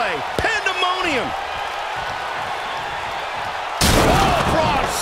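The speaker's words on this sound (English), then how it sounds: "Braun Strowman slamming into the mat." A wrestler slams into the ring mat in the wrestling video game WWE 2K19, a heavy thud over steady crowd noise, followed by a louder swell of crowd.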